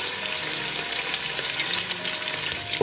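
Plant-based Beyond Meat Italian sausage sizzles and fries in hot oil in a pot, a steady, dense crackle and hiss that holds close and loud throughout with no voices.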